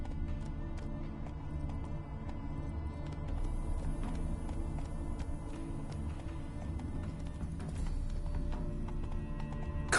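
Horse hooves clip-clopping steadily in The Witcher 3 video game, a quiet even rhythm of hoof taps that runs through the whole stretch, with a brief sharper sound at the very end.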